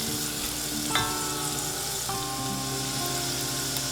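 Butter and extra virgin olive oil sizzle in a pot, a steady, even frying hiss with some faint tonal hum in the background.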